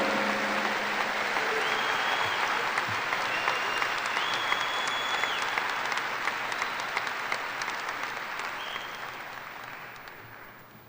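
An audience at a 2017 Seaman High School graduation ceremony gives sustained, dense applause that holds steady and then slowly tapers off, with a few faint whistles.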